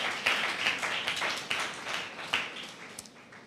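Church congregation clapping hands during a Tamil Sunday service sermon, a steady run of many overlapping claps that carries on for several seconds at moderate loudness, with no voices on top.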